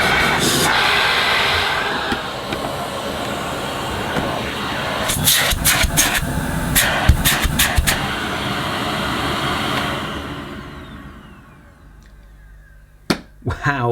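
A Beko Airgate Pets bagless vacuum cleaner runs with a steady, fairly loud broadband whoosh and scattered clicks and knocks, then powers down and winds away to near quiet at the end.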